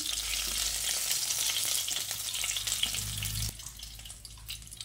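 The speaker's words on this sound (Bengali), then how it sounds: "ততক্ষণে দেখুন বাকি মাছগুলো ভাজা হয়ে গেছে, এগুলোকে তুলে নিচ্ছি" Katla fish pieces fry in hot oil with a dense, close, bubbling sizzle that drops off abruptly near the end as the fried pieces are lifted out, leaving a softer hiss.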